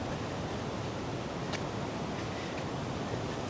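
A steady, close, wind-like roar of rushing river water near Borgund, Norway, continuous and uniform throughout.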